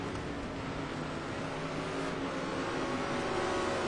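Touring race cars in the 2008 ETC Black Cup at Anderstorp drone steadily through a continuous, moderately distant engine roar, with a broad hiss of engine and track noise throughout and no clear single car passing.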